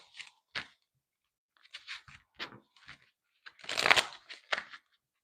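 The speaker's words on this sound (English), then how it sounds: "One more shuffle for Capricorn." Tarot cards shuffled by hand: a handful of short, crisp riffling and slapping bursts separated by pauses, close and clear with no talking.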